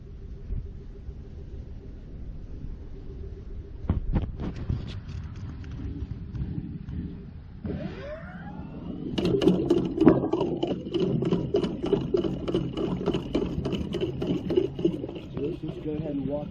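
A sewer drain cleaning cable machine kicks on outdoors near a catch basin, a low rumbling motor with clattering ticks from the spinning cable, growing louder after a few seconds, with faint voices in the background.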